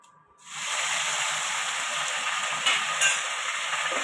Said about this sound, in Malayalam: കടുകെല്ലാം പൊട്ടിക്കഴിയുമ്പോൾ കുറച്ച് കറിവേപ്പില ഇട്ട് കൊടുക്കാം